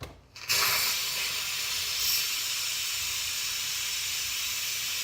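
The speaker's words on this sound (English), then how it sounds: "I put it over the vent while the steam is being released" Steam hisses steadily out of an Instant Pot's pressure-release vent, with a dish towel draped over it, starting abruptly and holding a loud, continuous airy rush.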